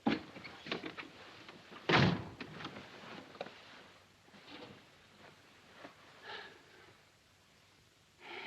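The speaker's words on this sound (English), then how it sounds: "Shut the door." A door is shut firmly in a 1941 war film, giving one loud, close thud, followed by quiet room tone with soft breathing and small shuffles.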